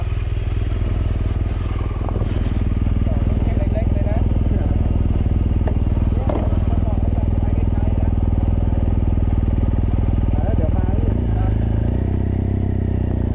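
A 2013 BMW R1200GS motorcycle on the road, its engine a steady, loud drone with rushing wind and road noise running through the whole stretch.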